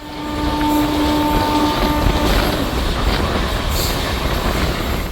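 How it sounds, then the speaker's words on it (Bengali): The 13125 Kolkata Sairang Express rolls into platform 2 of Kamakhya Junction in Guwahati. A loud, steady rumble of wheels and carriages is heard up close, with a thin squealing tone early on that fades. "প্রবেশ করলো ট্রেন এই মুহূর্তে কামাখ্যা জাংশনে"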